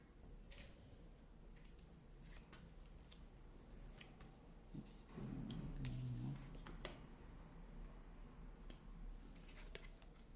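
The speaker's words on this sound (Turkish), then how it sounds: "Önce açıyorum kartlarımı." Tarot cards are laid out and turned over one by one for a general spread, giving soft, close-up flicks, slides and taps of card stock on a table at a quiet level, with no talking.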